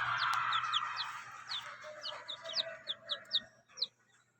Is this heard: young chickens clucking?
yes